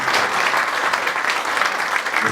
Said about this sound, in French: Je pense que ça mérite un tonnerre d'applaudissements.